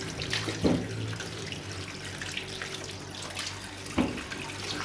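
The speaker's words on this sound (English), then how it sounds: "So what I'm doing right now is to wash the sorrel properly." Fresh sorrel being washed under a running kitchen tap, a steady broadband water rush filling the clip with two brief louder splashes near the start and end, no talking.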